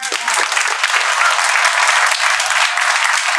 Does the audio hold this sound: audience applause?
yes